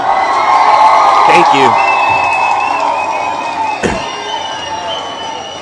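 A crowd cheers and whoops for a political figure, a loud, sustained roar with scattered shouts that gradually fades, and someone speaks briefly over it.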